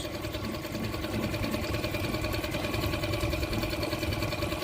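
A Tohatsu outboard engine runs steadily at idle while warming up on partial choke, its close, continuous mechanical hum and rapid rattling pulse holding an even level throughout with no voices.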